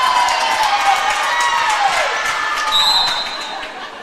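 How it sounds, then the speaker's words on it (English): A crowd cheers steadily in a school gym during a high school volleyball match between Wahpeton and Fargo Davies, a sustained roar with shoes squeaking on the floor. "There was some cheering over here below me."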